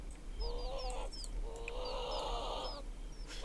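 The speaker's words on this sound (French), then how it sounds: "Il se passe des drôles de bruits là-dedans. Il y a les poules qui sont en train de souffrir." Chickens clucking and squawking in a farm life video game, a few sharp upward calls over sustained clucking bursts, close and moderately loud against a steady low hum.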